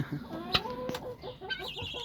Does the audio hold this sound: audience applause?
no